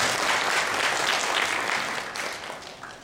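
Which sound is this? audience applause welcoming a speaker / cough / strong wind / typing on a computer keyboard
audience applause welcoming a speaker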